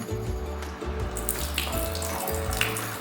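Water pours steadily from an open tap into a sink before handwashing, a continuous splashing rush that stays close and loud throughout.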